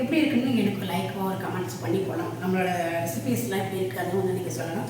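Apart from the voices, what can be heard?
None of the usual background noises is heard.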